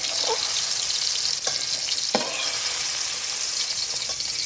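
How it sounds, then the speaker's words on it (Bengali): Cashews and three white cardamom pods fry in a pan for a cabbage kofta paste, giving a steady close sizzle with a few faint stirring clicks and no voices. "আমি এখানে কাজু বাদাম এবং 3টে সাদা এলাচ দিয়েছি, এটাও ভেজে নেব"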